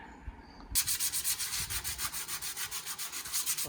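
A valve amplifier chassis, an Ahuja TM-75, is hand sanded before painting, giving a close, loud, rhythmic scratchy rubbing in fast even back-and-forth strokes after a brief quiet start.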